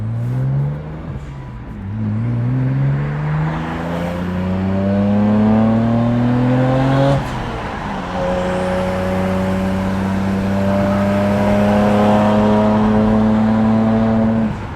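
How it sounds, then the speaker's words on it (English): A turbocharged BMW 135i built as a 1M clone revs loudly through rising gear pulls, its engine note climbing and dropping twice, with a sharp blow-off valve hiss between pulls, close and alone without talk. "Oh, it's so good to hear these turbos again."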